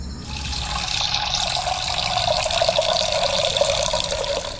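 Water pours into a cooking vessel in a steady, close stream, a continuous splashing fill that lasts a few seconds without talk.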